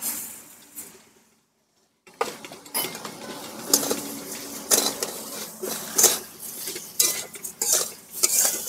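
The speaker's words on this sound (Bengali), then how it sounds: "নারকেলটা চিনির সঙ্গে বেশ খানিকক্ষণ আমি নাড়াচাড়া দিয়ে নিলাম" Grated coconut stirred with sugar in a pan: a spoon scrapes and clinks against the metal in irregular close strokes, after a brief silent gap near the start.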